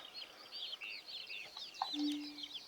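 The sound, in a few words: chickens clucking in a farming video game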